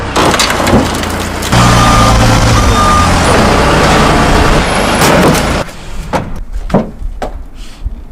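A forklift rated for 6,000 pounds hoists a whole car, its engine roaring loudly and steadily for several seconds with creaks and knocks, then cutting down to scattered clunks and bumps.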